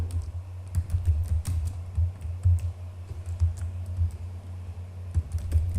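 VLAN commands typed on a computer keyboard, a steady patter of close keystrokes at an uneven rhythm over a low constant hum, with no speech.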